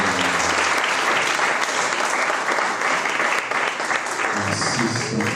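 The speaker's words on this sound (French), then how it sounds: "acclame Jésus" Church congregation breaking into loud, sustained applause and cheers for Jesus, a dense, even roar of clapping close by throughout.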